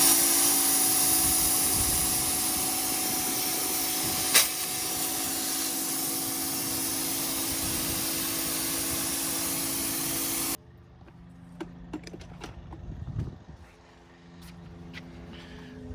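A pressure washer fitted with a low-pressure tip sprays a car's engine bay, a loud, steady, close hiss that runs for about ten seconds, then cuts off abruptly, leaving quieter intermittent handling noises.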